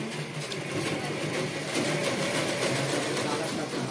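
Close, continuous whirring of a sewing machine stitching a churidar neckline, running steadily throughout while a voice talks over it.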